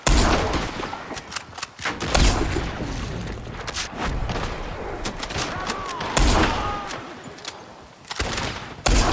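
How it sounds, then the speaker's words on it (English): Repeated gunfire in the video game Red Dead Redemption 2 during a shootout, with several loud broadband shots and bursts spread across the scene, some close and sharp, others trailing off, over a busy background of game noise. "Shooting from up in that building."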